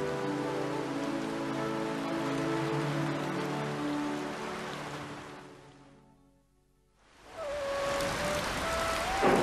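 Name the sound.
rain falling, in a cartoon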